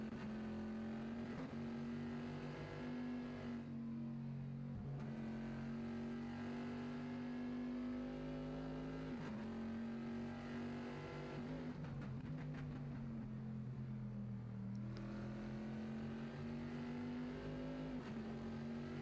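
A race car engine roars in a sim racing league event at Watkins Glen, holding a loud, steady, close-up drone with rises and dips as it revs and shifts gears, with no talking.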